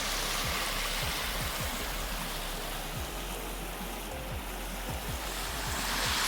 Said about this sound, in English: Pretty creek crossing